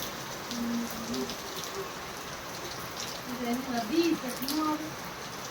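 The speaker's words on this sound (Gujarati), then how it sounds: "વરસાદ હેવી રા નીચે જ ભાવ વધારે છે મુહૂર્ત તેને કેવો ચાલુ થઈ ગયો જો" Heavy monsoon rain falling outdoors, a steady dense hiss of drops on surfaces, with a voice talking over it throughout.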